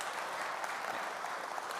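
Members at an annual meeting clap for the outgoing treasurer, a short burst of even, sustained applause from a modest indoor crowd.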